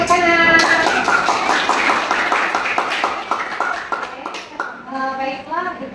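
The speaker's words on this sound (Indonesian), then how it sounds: "Oke, tepuk tangan" Classroom clapping after a student presentation in a maths lesson on functions, a group of students' hands patting in a fairly regular rhythm while voices talk over and around it.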